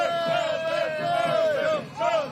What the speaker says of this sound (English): The fans are out cheering on the Belgian squads and other nations here at the side of the road